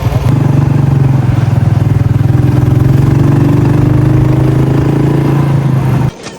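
A motorbike engine idles loudly and close by in a village in Neelum Valley, a steady low throbbing chug that cuts out abruptly near the end.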